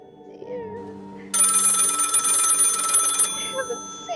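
Old-style telephone bell ringing in a radio play, a bright sustained ring lasting about two seconds, preceded and followed by faint voice sounds.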